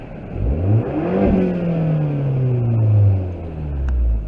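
A turbocharged car engine with a blow-off valve and no mufflers revs up and drops back, a deep swelling roar with a whooshing turbo whine, close and loud, with no talking.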